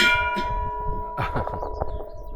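A memorial bell at the Kaliakra battle monument ringing out with a sustained metallic tone, struck once near the middle and then left to resonate, close and loud with no voices.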